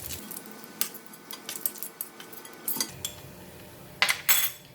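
Metal utensil scraping and clinking against a pan while browned garlic is lifted out of hot oil, irregular taps and clanks over a faint sizzle, close, with a louder clatter near the end.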